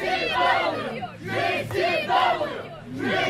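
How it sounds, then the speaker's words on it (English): A wrestling crowd at a GCW event chants in unison, loud rhythmic group shouts repeated in swelling bursts about every half second to second, filling the space. "The crowd goes nuts for Alex, giving it up with the GCW chant."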